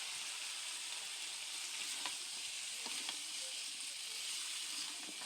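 Washed vegetables dropped into spiced oil fry with a soft, even sizzle, with a few light scrapes of stirring, fairly quiet and without talk.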